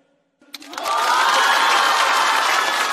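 A stand-up comedy audience breaks into applause after a short pause, swelling quickly into loud, sustained clapping and cheering.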